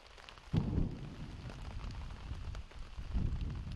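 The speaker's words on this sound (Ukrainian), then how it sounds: "ось така погода, дощ іде" Rain falls at the front near Bakhmut, a soft diffuse hiss of drops on surfaces with a low rumbling burst near the start and another toward the end, faint and distant with no voices.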